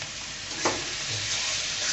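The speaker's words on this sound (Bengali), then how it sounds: "দিয়ে আমি নেড়ে চেড়ে নিচ্ছি" Cauliflower stalk curry with coriander leaves stirred in a pan, a close, even sizzle with one brief scrape of the spoon near the start and a steady hiss afterwards.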